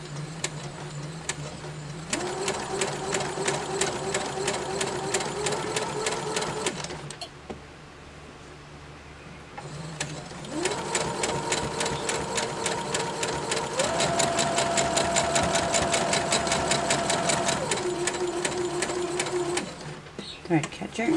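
Sewing machine stitching a quarter-inch seam on quilt pieces, running in two long whirring bursts with a brief pause between, loud and close.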